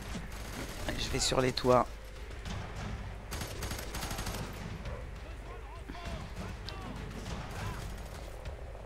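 Gunfire in the video game F.E.A.R. 3, scattered rapid bursts and shots at moderate distance, mixed with game sounds and heard under people talking in French throughout.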